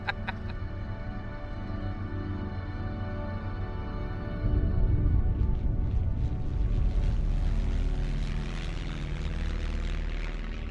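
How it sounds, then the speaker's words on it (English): A propeller airplane flies over K'gari (Fraser Island), its engines droning steadily and loudly throughout, swelling a little louder about halfway through with a rougher, rushing edge. "we're all gonna go out and fly over the island"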